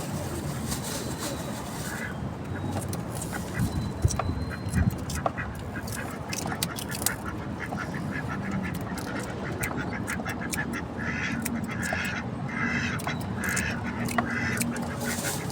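A flock of ducks quacking continuously and busily nearby, many overlapping calls with a few faint voices in the background.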